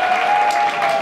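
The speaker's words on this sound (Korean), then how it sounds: "여러분 큰 박수" Brief burst of dense applause from the crowd at a professional boxing award ceremony for a super middleweight bout, steady and continuous with a faint tone under it.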